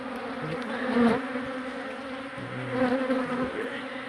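Honey bees buzzing steadily and loudly during a beehive relocation, a dense close swarm hum that swells and eases, with no voices.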